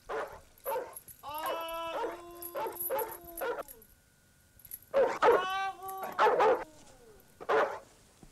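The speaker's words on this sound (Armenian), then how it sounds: "քեզ վրա չի հաչում, գիտի, որ մեր նանն ես" A dog in a 1977 Armenian film yelps and whines in drawn-out bursts, with short barks in between, close and fairly loud, while people speak around it.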